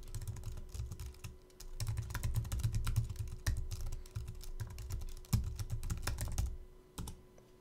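Keys clatter on a computer keyboard as a web link is typed into Excel Online, with steady bursts of close, fairly loud clicks, short pauses between runs and a low background hum.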